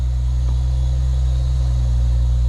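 A BMW E93 335i N55 engine runs at a steady, loud idle after a low pressure fuel pump upgrade, a constant low rumble with no talking.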